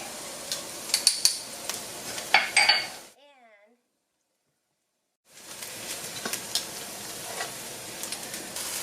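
Garlic sizzles in a sauté pan over chopped shallot, a steady crackling hiss with light clinks of a utensil, dropping to full silence for about two seconds midway before the sizzling resumes.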